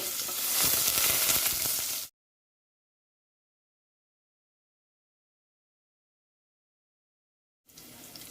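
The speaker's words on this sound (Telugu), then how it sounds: "ఆవాలు కొద్దిగా చిట్పట్లాడిన తర్వాత కొంచెం ఇంగువ కొద్దిగా కరివేపాకు కొంచెం వెల్లుల్లి" Mustard seeds, asafoetida, curry leaves and garlic sizzle hard in hot oil for horse gram sambar, loud and close for about two seconds, then full silence before the frying briefly resumes.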